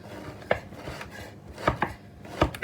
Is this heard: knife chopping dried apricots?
yes